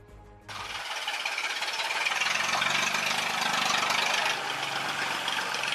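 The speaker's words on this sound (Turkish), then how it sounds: "Motor olarak traktör motoru kullandım." Homemade truck powered by a tractor engine, fitted with a car gearbox and car wheels, starts and runs with a steady loud mechanical rumble and knock after a brief moment of other sound.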